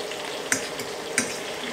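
Potatoes fry in a pan, a close, steady sizzle broken by two brief utensil clinks as they are stirred.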